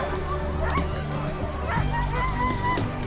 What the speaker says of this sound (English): But these were real Iditarod dogs.